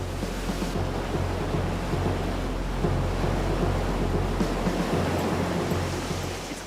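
A massive surge of artificial wave water, nearly 100,000 litres per second driven by giant screw pumps, roars as a loud, continuous broadband rush that slowly tapers off.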